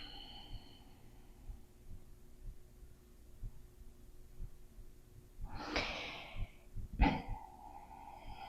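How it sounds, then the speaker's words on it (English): A slow, deep breath during a yoga strap stretching session: a quiet, airy inhale followed by a sharper, audible exhale through the nose, close and alone over a faint low hum. "Deep inhale and exhale."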